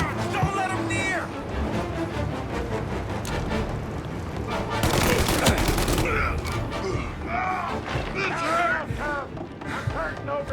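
Gunfire in the crime action game Mafia: Definitive Edition, a sustained burst of shots in the middle of a chaotic fight, mixed with shouting voices and game music.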